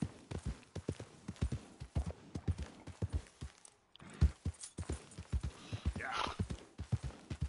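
Horse hooves in the video game Red Dead Redemption 2 clop in a steady, fairly loud walking rhythm. The beat breaks briefly partway through, then picks up again.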